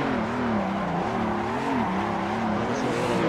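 A BMW E30 in the Assetto Corsa driving game holds a steady engine drone with pitch that wavers as it slides through a drift, plus faint tire noise throughout.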